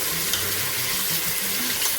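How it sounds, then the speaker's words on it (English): Lentils and peas frying in a pot for a Grenadian one-pot pelau, giving a steady close sizzle with faint stirring scrapes throughout, no voices. "I'm just gonna fry it in there."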